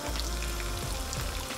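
Close, steady fizzing of vinegar poured onto baking soda, with a dense crackle of tiny bubbles, continuous throughout without pause.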